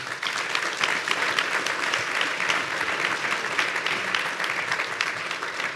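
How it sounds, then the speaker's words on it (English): Audience applause for a sales conference panel, steady dense clapping from a crowd that holds a constant level throughout without talk. "Round of applause for amazing panelists today."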